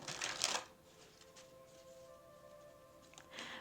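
A deck of cards being shuffled at close range, a quick riffling burst followed by quieter sliding and handling sounds, with no talking.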